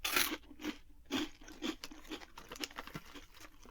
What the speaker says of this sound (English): They're easy to eat. They're nice and crunchy.